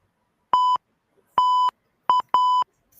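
Four short, loud electronic beeps of the same pitch sound from a radio broadcast dump button, two spaced apart and then two quicker ones close together, with silence around them.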